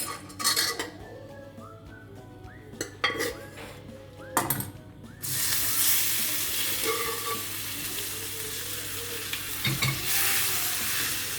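Cooked potatoes are mashed into hot frying masala for a potato masala curry, with a spoon clinking and scraping against the pan, then a steady loud sizzle fills the rest.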